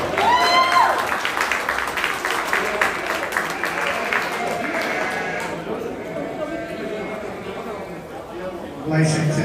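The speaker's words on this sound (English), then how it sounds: "So let's give these kids a round of applause." Applause for the children at a market lamb show in a livestock arena, brisk clapping that fades out, with sheep bleating and hooves shuffling nearby and people talking over it.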